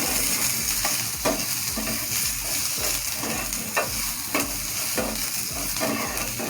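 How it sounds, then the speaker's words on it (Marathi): Chopped onions fry in a pan for misal, making a steady close sizzle with regular scraping strokes of a spatula throughout. "आणि हा कांदा आपल्याला 1 मिनिटभर लाल होईपर्यंत परतून घ्यायचा आहे."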